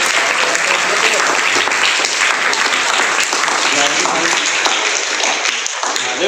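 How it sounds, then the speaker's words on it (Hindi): Loud, dense applause from a classroom crowd at a school math lesson, steady and sustained throughout with no break. "जोरदार तालियां के लिए।"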